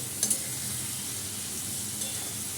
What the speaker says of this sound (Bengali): মশলাটা একটু ভালো কষানো হবে